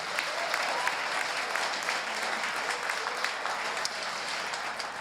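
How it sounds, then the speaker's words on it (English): Audience applause at a chamber of commerce gala dinner at a Stillwater venue, steady dense clapping from a sizable crowd filling the room at moderate level for several seconds without pause. "Let's give everyone a round of applause."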